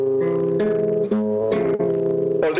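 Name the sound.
chord the speaker dislikes, played as a contrast to major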